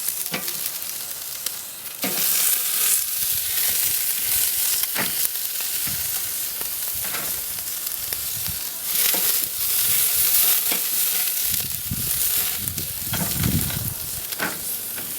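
Beer brats laid over direct heat on a grill sizzle steadily for about fifteen seconds, a close, dense crackle with occasional sharper pops and spits and no talking.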